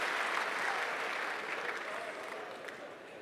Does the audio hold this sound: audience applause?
yes